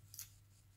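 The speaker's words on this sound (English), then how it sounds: "Just want to show you my scissors real quick." A pair of embroidery scissors for cross-stitch gives a single quick, crisp snip, very faint and close against near silence.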